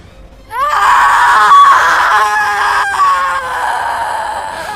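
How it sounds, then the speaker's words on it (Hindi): A ghostly chhalawa spirit in a Hindi horror story lets out a loud, wavering scream that rises sharply and holds for several seconds, shrill and wailing, with no talking over it. "छलावा ने चीख मारी"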